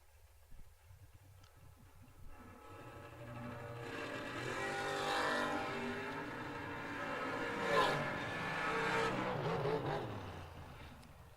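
A drag racing truck engine at a drag racing world championship, heard from a distance as a rising roar that swells and fades over several seconds, fairly faint with no talk over it.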